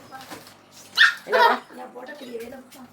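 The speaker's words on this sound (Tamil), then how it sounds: "நாய்க்கு தீனி வைக்கிறோம். பாத்தீங்கன்னா நாய்க்கு இவ்வளவு வைக்கிறோம்." A dog barks in two short, loud bursts near the middle while being fed at home, with people talking around it.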